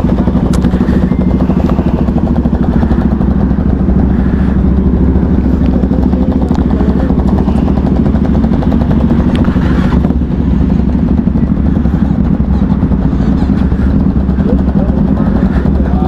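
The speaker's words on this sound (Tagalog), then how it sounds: "Yung mga motor nilang maiingay" Loud motorcycle engines, including a Cafe 400 converted to a bobber, roar continuously up close, a thick droning rumble with occasional rattles and no pauses.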